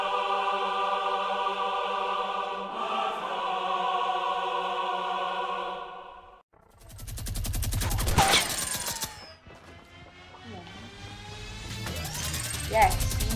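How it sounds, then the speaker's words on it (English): Minigun firing in a video game, long dense rattling bursts of rapid gunfire after a sustained tonal spin-up whine, loud and close, with a second burst near the end. "Yes, he's getting melted by my minigun."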